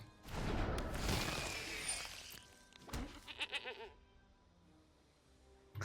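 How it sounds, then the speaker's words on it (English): A cartoonish goat bleats in the MTG Arena video game, a loud wavering cry followed by a quicker stuttering bleat, then quiet. "I like the goat noise."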